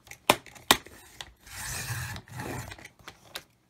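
Paper being trimmed for a handmade traveler's-notebook-style journal: two sharp clicks, then a scraping cutting stroke and a second slice, close and fairly quiet, followed by a few small taps.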